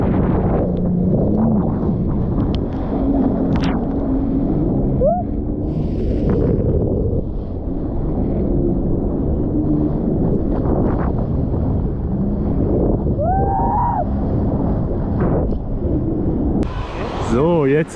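A jet ski ridden at sea off the beach at Belek, Turkey, its engine droning and revving steadily with wind rushing across the microphone, while people talk and call out over the noise throughout.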